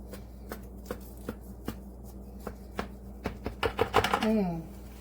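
A knife cutting into a moist espresso coffee cake, heard as a series of soft, evenly spaced taps and crumbly cuts that quicken and grow louder toward the end, close by and without talk.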